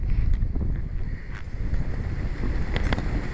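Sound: strong wind outdoors

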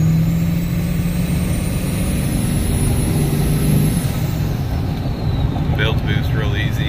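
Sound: car engine warming up, turbo noises, KC S300 turbine wheel

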